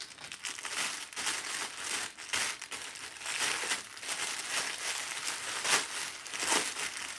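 Crinkly plastic packaging around crocheting trimming and tassels being unwrapped, with bursts of crackling and crumpling that continue steadily close up, without any talking.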